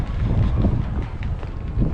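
Low, rumbling wind buffets a microphone in steady gusts, a broad muffled roar with no other clear sounds and no talking.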